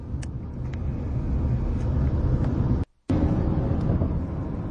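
A car passes by the KIH television studios on El Camino del Rey, a steady, loud road rumble filling the clip with a brief cut to silence near the middle.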